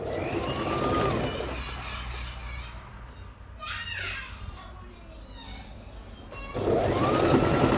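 Sewing machine stitching an invisible zip into a lined dress, a continuous close whir that fades midway and picks back up, with some background noise and faint voices.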